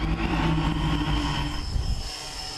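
A small unmanned aerial system with mini propellers lifts off for wildlife study work, giving a steady, loud droning hum with tonal whine throughout, close by and unbroken, no voices.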